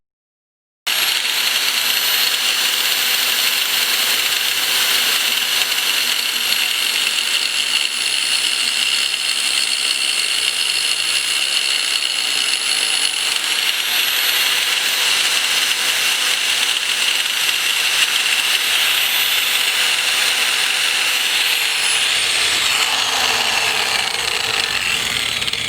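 Two inches being cut off a rubber hose during a catch can install on a CB7 track build: a steady, continuous rasping cut runs about 25 seconds, loud and close, with no talking.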